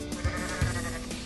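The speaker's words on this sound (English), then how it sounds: "Now he sounds like a goat." A goat bleats in the Goat Simulator video game: three quick, nasal bleats spaced across a brief moment, fairly soft and with nothing else playing over them.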